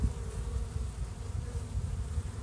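Honey bees buzz in a low, steady drone in an early-April apiary, close by and continuous, with the hum rising and falling slightly.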